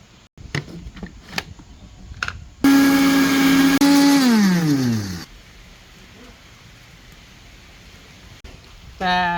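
A blender whirs loudly as it blends strawberry ice cream into a milkshake, a steady roar that slows and winds down at the end, following some clicks and handling noises, with background hiss and a brief restart at the end.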